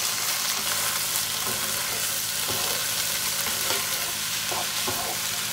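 Onions, carrots and potatoes fry in a pan while being stirred, giving a steady, close sizzle with soft scraping strokes of the utensil throughout.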